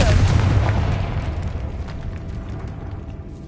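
A Confringo spell explosion in a Harry Potter video game goes off as a loud, close boom right at the start, then rumbles away into a long, fading tail.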